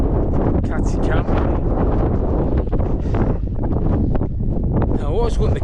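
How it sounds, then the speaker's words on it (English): Strong wind buffets the microphone on an exposed summit in the Lake District, facing Helvellyn, a loud continuous roar with gusty rumbling throughout. "it is still pretty damn windy"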